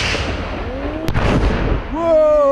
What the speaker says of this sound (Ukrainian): Це заняття з тактики відпрацювання пострілу з РПГ